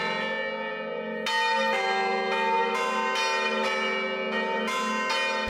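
Carillon church bells ring in Lens, Valais, a series of bright, resonant strikes about every half second, each note sustaining and overlapping the next in a loud, ringing melody with no voices.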